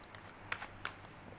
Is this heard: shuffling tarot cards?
yes